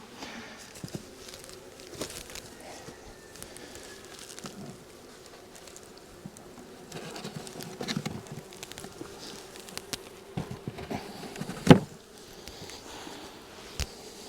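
Honeybees buzz around beehives in the open, a faint, steady drone with light rustling and scattered soft taps and crinkles, and one sharper knock late on.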